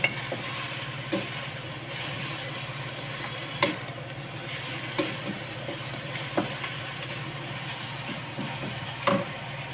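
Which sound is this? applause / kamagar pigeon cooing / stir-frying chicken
stir-frying chicken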